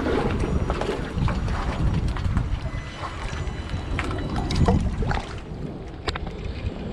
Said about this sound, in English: we got a strong west wind blowing